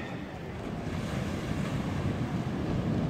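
Powerful ocean waves break on a beach under a yellow flag, a continuous loud surf wash that swells slightly toward the end, mixed with wind, with no talk.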